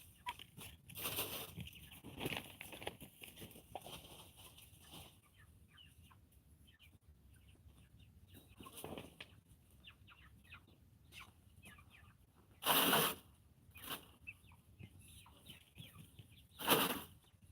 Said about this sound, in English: Such a damn chicken.